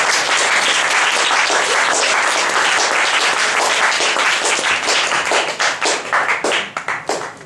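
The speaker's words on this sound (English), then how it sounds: "Applaud the poet" Loud, dense applause from an audience at a poetry slam, steady clapping that holds strong and then thins into scattered individual claps near the end.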